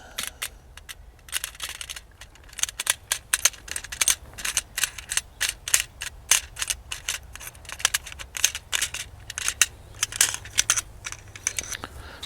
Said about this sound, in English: You remove the wing nut.